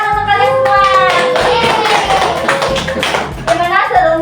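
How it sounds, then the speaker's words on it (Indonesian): Third-grade pupils clapping together in a classroom lesson, loud rhythmic unison claps in a steady beat close by, with a voice talking over them throughout. "tepuk tangan untuk kalian semua"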